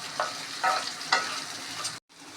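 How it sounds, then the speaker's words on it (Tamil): Diced potatoes frying in oil for sago kichadi, a steady close sizzle with a few brief scraping stir strokes of a spoon in the pan, then a sudden short silence. "ஒரு டூ மினிட்ஸ் ஃப்ரை பண்ணணும்"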